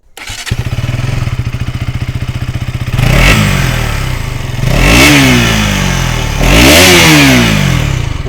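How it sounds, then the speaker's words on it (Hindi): A 2023 KTM Duke 200 motorcycle with an underbelly exhaust idles with a loud, rapid thumping beat, then its engine is revved hard three times, each rise and fall deep and throaty, close by. "इसकी जो अंडरबेली एग्जॉस्ट है उसको भी मैं आप लोगों को थोड़ा सुना दूँ"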